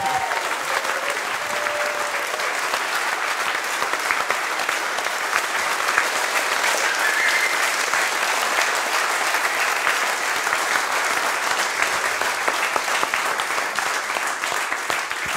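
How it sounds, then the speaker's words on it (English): Steady, dense applause from a large audience at a conference closing ceremony, loud and continuous throughout with a faint murmur of crowd beneath. "have another round of applause for the bar team that did an awesome job very late at night"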